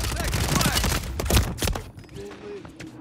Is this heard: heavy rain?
no